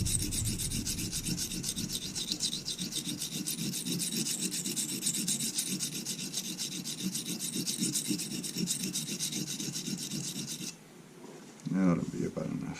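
A knife blade is sharpened freehand on an oilstone, the steel working the belly of the blade in a steady, continuous rasping rub that runs for about ten seconds and then stops, followed by a brief soft knock.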